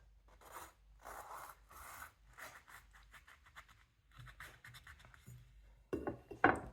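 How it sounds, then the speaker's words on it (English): A knife slices a hot chili pepper in half with soft repeated scraping strokes, then a sharper cut and knock near the end, all faint and close. "Let's go cut this one in half."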